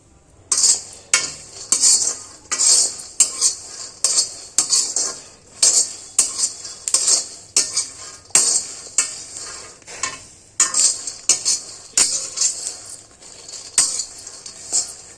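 Peanuts frying in hot oil while being stirred in a pan, steady sizzle under repeated scraping and clinking strokes of a metal spoon, close and fairly loud, no talking.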